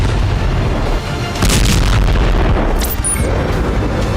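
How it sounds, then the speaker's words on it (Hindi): Bombing near Al Shifa hospital in Gaza: heavy booming blasts over a constant deep rumbling roar, loud and sustained, with no talk. "धमाके और गोलीबारी की आवाजें साफ साफ सुनी जा सकती हैं।"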